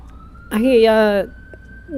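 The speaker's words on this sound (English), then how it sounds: "there's an ambulance going by" A city ambulance siren passes nearby, a single loud rising-and-falling wail lasting under a second, with a faint steady tone behind it.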